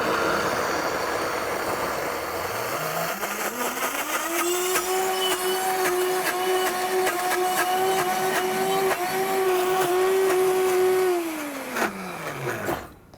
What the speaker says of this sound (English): ideally if your blender has a stick like this that we can help the mixing, let's make use of that, and let's turn it on and blend.